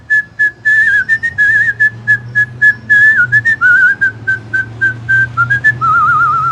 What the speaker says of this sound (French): tu as un talent incroyable pour siffler